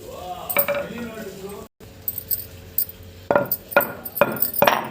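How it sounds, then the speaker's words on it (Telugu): Roasted spices pounded into powder by hand for a Nellore-style fish stew: a series of sharp, close thuds and clinks in a steady rhythm, with someone talking in the background. "వేయించుకొని ఇలా దంచుకోండి మెత్తగా దంచి"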